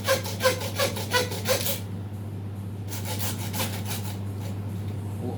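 A handsaw cuts through the joints of a sheep carcass in a run of quick, rasping back-and-forth strokes, close and clear, then stops, leaving a low steady background hum with a few faint scrapes.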